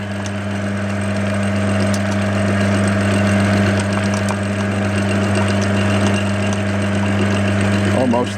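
A Clarke CL430 lathe mills a male dovetail, its motor droning in a constant low hum with a steady cutting rasp layered on top for the whole stretch.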